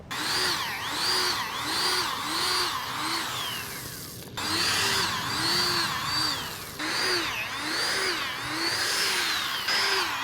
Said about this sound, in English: So I finished drilling all the holes